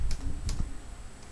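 A single Enter key press on a computer keyboard during data entry in accounting software, a couple of sharp close clicks over a low room hum, no talk.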